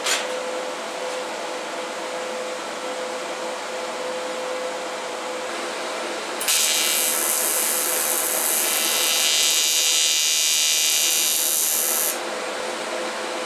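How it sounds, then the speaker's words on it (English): TIG welding aluminum with a Primeweld 225X welder while building a cube: a steady electrical hum with a tonal whine, then a bright, even hiss of the arc for about six seconds before it stops, heard up close with no talking. "It shouldn't be too hard to make that weld."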